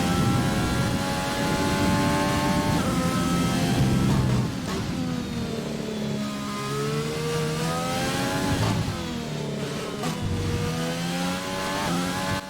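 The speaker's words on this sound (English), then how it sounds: "Downshifts sound a little bit different in the Renault." A Renault Formula 1 car in the F1 2020 racing game on a wet track, its engine revving high and dropping in pitch through repeated downshifts, loud, close and continuous from the cockpit.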